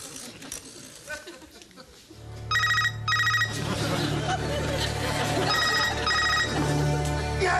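Telephone ringing with a classic double-burst electronic trill, repeating loudly over a bed of music and background chatter.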